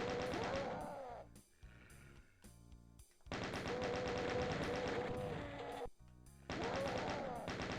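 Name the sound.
chaingunner enemies firing in the video game Doom II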